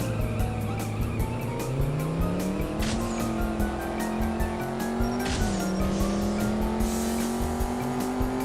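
Game engine audio from a CSR Racing drag race against a Ford Focus RS: a loud, steady engine drone climbs in pitch through repeated gear shifts, with ticking, tire noise and no talk.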